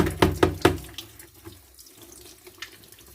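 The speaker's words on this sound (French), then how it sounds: "je peux en profiter pour faire couler un peu l'eau pour nettoyer mon siphon, pour le rincer" Tap water splashes into a bathroom washbasin to rinse a sink trap, opening with three sharp bursts of gushing, then settling into a quieter trickle with a few drips and knocks, close up and without speech.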